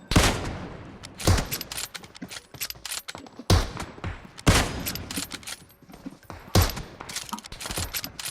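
Bursts of gunfire in the video game PUBG Mobile crack out in several sharp volleys, some rapid and clustered, with quieter gaps between them and no talking.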